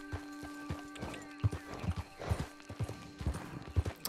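Horse galloping and neighing in Red Dead Redemption 2, rhythmic hoof clip-clops pounding at a steady pace with whinny sounds, fairly close and clear, with no talk over it.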